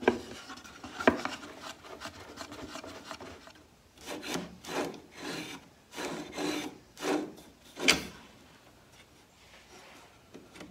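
A hand file rasps metal off a welded nut in a series of separate scraping strokes of uneven strength, close and fairly quiet, with short pauses between strokes.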